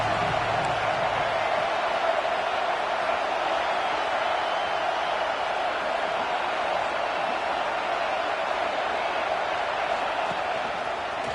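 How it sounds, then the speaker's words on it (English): At a college football game between Texas A&M and Texas, a home stadium crowd roars in a steady, dense wash of cheering that stays constant, loud and unbroken throughout. "how nice is it to have the home crowd going absolutely bananas?"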